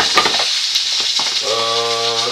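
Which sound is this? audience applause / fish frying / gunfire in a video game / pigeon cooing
fish frying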